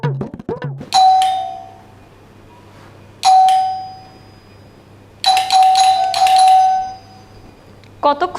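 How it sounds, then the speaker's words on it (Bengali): An electronic doorbell rings loudly and close by in three separate bursts of bright two-tone chimes with pauses between them, after a brief voice at the start. "কতক্ষণ ধরে কলিং বেল বাজতেছে, ওর কোনো খবরই নেই"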